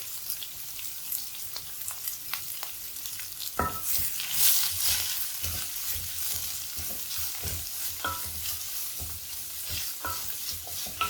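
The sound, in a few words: onions sautéing in oil for egg curry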